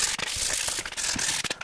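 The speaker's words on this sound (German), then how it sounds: "Jetzt werde ich das noch fertig schleifen." Wood is sanded by hand in quick, rough scratchy strokes, a dense continuous rasp broken by brief pauses over under two seconds, close and fairly loud, with no talking.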